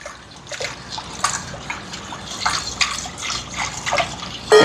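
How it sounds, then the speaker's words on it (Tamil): Jelly mixture, about 400 ml, being poured into yoghurt for a jelly yoghurt custard pudding gives a steady close-up liquid trickle and splatter with small splashy bursts, ending in a louder splash. "அதை எடுத்து இதோட சேர்ப்பேன் ஜோக்கட்டோட"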